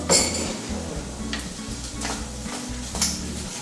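Tomatoes and onions stirred in a pan without oil, with a spoon scraping and clinking against the metal in repeated strokes over a soft sizzle, close and fairly quiet.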